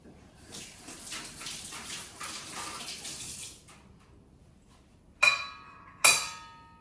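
Tap water runs over a milk stone in a kitchen sink, a steady splashing hiss for a few seconds that then stops, followed by two sharp, ringing clinks of the stone against hard surfaces.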